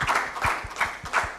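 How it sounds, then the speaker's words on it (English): A small workshop audience claps briefly for a speaker, a short burst of a few hands patting in a loose uneven rhythm, soft and somewhat distant. "Clap your hands for him."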